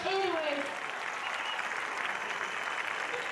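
An audience applauds steadily and fairly loudly to welcome a singer at a Malvinas vigil alongside war veterans, the dense clapping continuing throughout with a voice briefly heard at the start.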